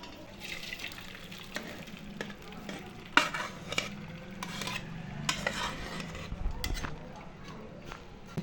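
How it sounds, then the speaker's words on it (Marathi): Cooked dal being pushed through a puran sieve, with scraping, clinks and wet stirring sounds in a quiet home kitchen and a voice talking over parts of it. "आता डाळ आपण गाळून घेऊया"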